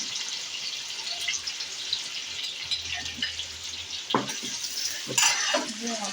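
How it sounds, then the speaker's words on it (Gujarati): Garlic and green chili frying in a pan for a Gujarati okra curry, giving a steady soft sizzle with stirring scrapes and a few clinks of a utensil throughout. "લસણ અને લીલું મરચું એ નાખી દઈશું આપણે."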